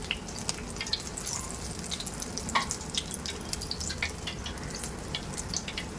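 Small round dahi vada batter balls fry in hot oil with a steady soft sizzle dotted with faint crackles and pops, close and continuous with no talking.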